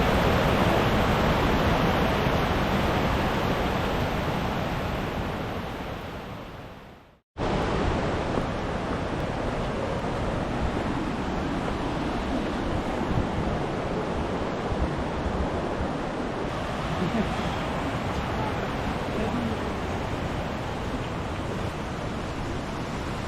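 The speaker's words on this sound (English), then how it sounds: "This is that Forrest Gump sideways and upside down rain right now." Heavy jungle downpour at a trekking camp on the route to the Lost City in Colombia, with runoff streaming into camp as waterfalls; a dense, steady roar of rain and rushing water fills the whole scene, briefly cutting out once before returning.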